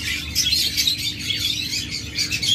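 A pair of green opaline budgerigars chirps busily at close range, a continuous run of bright, overlapping tweets with no voices.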